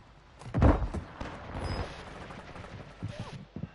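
Incoming gunfire strikes the player in a squad-based shooter video game, a loud burst of rapid impacts early on followed by scattered lighter shots and thuds, with game voice callouts mixed in.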